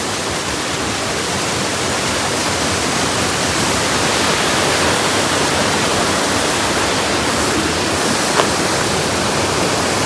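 A forest waterfall at Olagode Falls pours in a steady, loud, broadband roar that stays constant throughout, with no voices over the rushing water.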